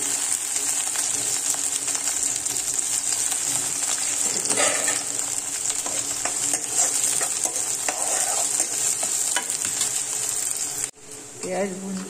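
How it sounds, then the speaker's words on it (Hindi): Onion and chili frying in hot oil in a kadhai make a loud, continuous hiss with scattered utensil scrapes, cutting off abruptly near the end. "प्याज और मिर्ची डाल देंगे और इनको अच्छे से तेल में भून लेंगे"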